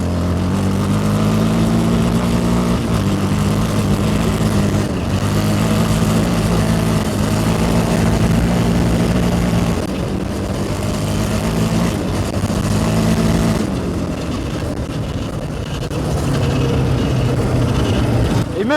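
A Yamaha 700 Raptor quad runs at high speed, around 120 km/h though not at full throttle, as a loud, continuous engine drone whose pitch shifts slightly through gear and throttle changes, with a voice talking over it.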